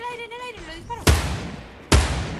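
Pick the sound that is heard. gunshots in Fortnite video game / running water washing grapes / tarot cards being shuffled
gunshots in Fortnite video game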